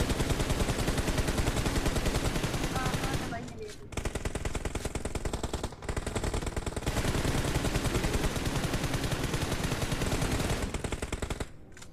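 Sustained rapid automatic gunfire from PUBG Mobile hammers away almost nonstop, loud and dense, with brief pauses between bursts and a final short break near the end.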